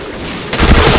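Gunfire in the video game Point Blank, with a sudden loud burst of shots kicking in halfway through after a quieter stretch.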